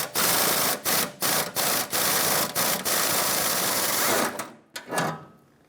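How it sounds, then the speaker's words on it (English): A spinning nut is gripped with locking pliers on the rear bumper of a 1996-2002 Toyota 4Runner while a power tool whirs loudly and close, broken by several short stutters and pauses before stopping. "I'm going to grab it with some locking pliers"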